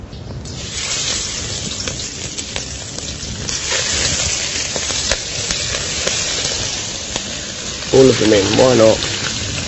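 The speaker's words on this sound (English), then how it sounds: "And now prawns go in." Prawns sautéing in hot vegetable oil in a pan, a steady loud sizzle and crackle throughout, with a voice speaking briefly near the end.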